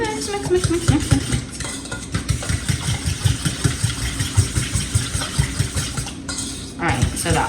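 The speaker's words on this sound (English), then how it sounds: "I am going to mix all this up." Wet ingredients for vanilla oatmeal protein muffins are beaten in a bowl, giving a steady rhythmic knock and scrape of utensil against bowl over a loud, continuous motor-like drone.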